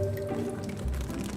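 A Dover sole is lifted out of its cooking water, with close, wet drips and a soft slosh of falling liquid over a brief moment, and no voices.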